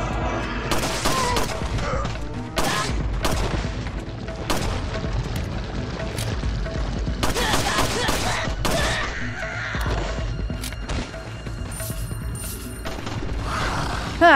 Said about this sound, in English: I don't remember hearing somebody else shooting